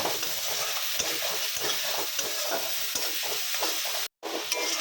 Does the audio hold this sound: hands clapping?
no